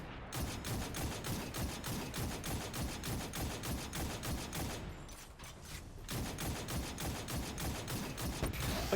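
Scout rifle shots from the video game Destiny 2 fire in a steady, rapid rhythm of sharp, loud, close cracks with mechanical clatter, continuing almost without pause apart from a brief lull midway.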